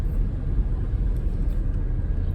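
Steady low rumble of a car driving along an evening road in Tulsa, heard from inside the cabin, continuous and fairly loud with no talking.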